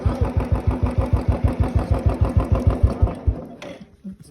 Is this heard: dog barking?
no